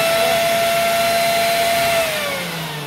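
A Black and Decker leaf blower vacuum roars loudly and steadily with a whining motor tone, then its pitch drops slightly as it begins winding down near the end; no voices.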